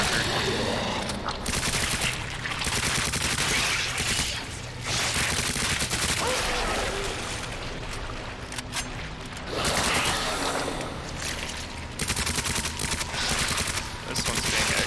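Rapid, dense gunfire from Claire's weapon in the Resident Evil 2 remake, sustained bursts shooting at a boss and its parasites, loud and continuous with game effects underneath.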